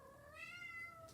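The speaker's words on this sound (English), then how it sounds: "Excuse that noisy little kitten in the background." A small kitten named Circe lets out one drawn-out, rising-and-falling meow, faint and set back in a quiet room.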